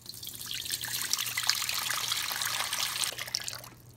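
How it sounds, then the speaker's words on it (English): Water pours steadily into a bowl with a bright, splashing trickle that swells and then tapers off near the end, close and fairly loud. "So what I'm going to do is fill my bowl with water first."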